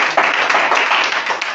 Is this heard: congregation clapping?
yes